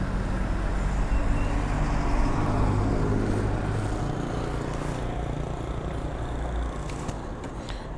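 Street traffic on Avenida João Osório in São João da Boa Vista, a steady low rumble of passing cars and engines at moderate distance with no talk.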